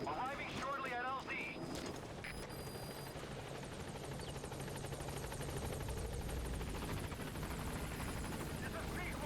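Helicopter rotor wash from Metal Gear Solid V's B-Quad support chopper arriving at a landing zone, a steady heavy roar that fills the whole stretch, with brief game effects at the start.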